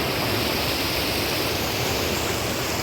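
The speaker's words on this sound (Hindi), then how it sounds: "यहाँ पर सारे पहाड़ों के बीच से ऐसी ही नदी जा रही है" A mountain river near Manali rushes steadily between the hills, a loud, continuous broadband roar of flowing water with no voices.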